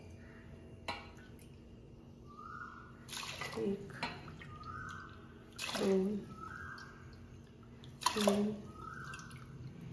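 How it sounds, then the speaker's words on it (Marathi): Water poured bowl by bowl into a cooking pot for bisi bele bhat with rice and toor dal, three distinct splashing pours spaced a couple of seconds apart while a woman counts aloud. "इथे 6 वाटी मी पाणी घालतेय"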